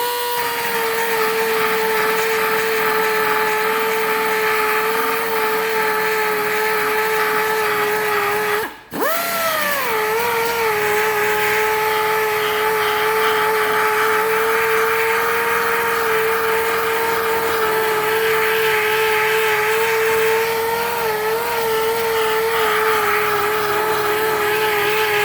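A power tool turning slowly against the plastic rear bumper of a 2016 Dodge Charger during repair gives a steady, sustained motor whine with a brief dip about a third of the way in, then runs evenly to the end with no talking.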